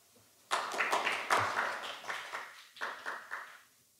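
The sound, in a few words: audience applause welcoming a speaker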